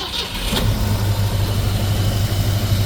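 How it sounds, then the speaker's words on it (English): A 1964.5 Ford Mustang convertible starts up with a short cranking burst, then settles into a loud, steady, low idle that rumbles close by for the rest of the clip. "we'll fire her back up and we'll put the top down"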